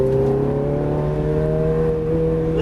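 A Ferrari F430 engine pulls at full throttle, its steady high whine climbing smoothly in pitch as the car accelerates, loud and close with no talking.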